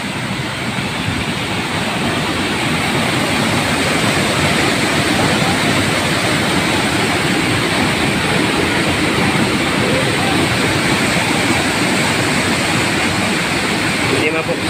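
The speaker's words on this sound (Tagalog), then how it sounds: "Malakas masyado yung tubig." Strong, muddy floodwater rushing during a typhoon in Bataan, a loud, steady roar without pause, close by and filling the whole stretch.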